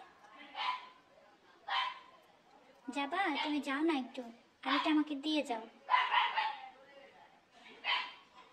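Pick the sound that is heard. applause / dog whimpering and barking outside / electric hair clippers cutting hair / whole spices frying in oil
dog whimpering and barking outside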